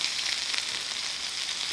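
Prawns and onions fry in a pan for a dhal rice dish, giving a steady, close, dense sizzle with no voices over it.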